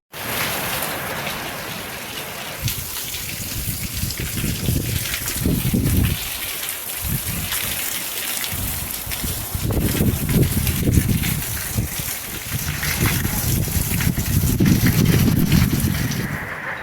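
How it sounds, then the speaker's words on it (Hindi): Heavy rain pours down continuously, a dense hiss with surging bursts of water splashing, loud and close throughout. "इतनी तेज बारिश हो गई।"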